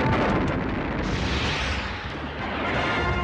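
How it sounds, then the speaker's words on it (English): Cartoon missiles from the Voltron robot launch and explode in a dense, continuous roar of blasts and rumbling booms, loud and close throughout with no pauses. "Voltron missiles!"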